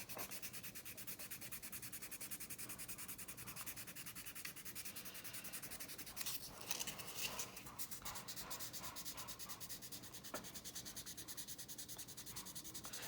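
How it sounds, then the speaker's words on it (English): CA glue and metallic pigment filler being sanded with 600 grit sandpaper, a steady close rubbing scrape in quick back-and-forth strokes, faint and alone throughout. "this is just giving you an idea of what it's like to sand it"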